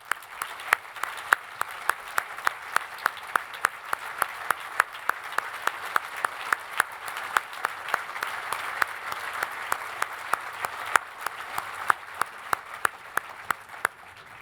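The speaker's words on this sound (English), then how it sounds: "Let's give them all a round of applause." An audience at a gala honoring fallen patriots applauds veterans and service members, producing steady, sustained clapping at moderate volume with sharp individual claps standing out near the front.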